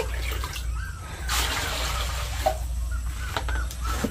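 Clean water splashes and trickles as it is poured out for a thirsty Rottweiler farm dog in the Philippines, a close, uneven pour with a few brief bird calls in the background.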